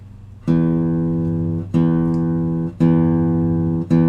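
A low guitar string, tuned to E, plucked three times, each note ringing out clearly and sustaining before the next pluck.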